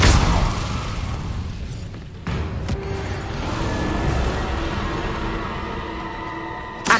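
Hogwarts Legacy Incendio fire spell bursting into a loud whooshing blast, followed by a crackling, rumbling roar of flames that slowly fades, with a sharp second impact near the start and another at the end.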